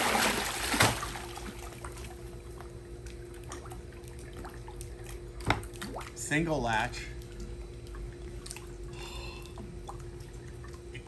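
Water drips and trickles from a tool box just opened after sitting outside in sun and weather, soft splashes and dribbles heard close under a man's speech.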